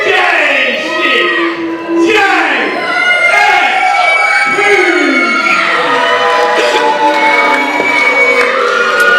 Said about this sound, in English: The crowd here in the Geelong Ukrainian Hall is letting him know that they are not pleased to see that man here.